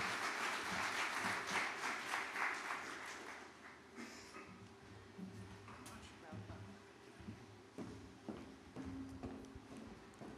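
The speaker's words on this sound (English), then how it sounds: "Please give up a big applause for Kevin Neelsen." Audience applause at a global tourism conference in Jamaica welcoming a speaker, fairly faint and distant, thinning out after a few seconds into scattered claps and room noise.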